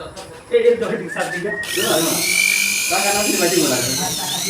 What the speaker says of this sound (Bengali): মোটরটি ইজি হওয়ার পরে মোটরটি পাওয়ার দিই।